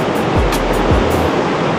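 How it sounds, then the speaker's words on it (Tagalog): A strong river current rushing near a waterfall in the Sapa mountains of Vietnam, a loud, dense, continuous roar of water close by, with no talk. "Ang lakas ng agos ng ilog."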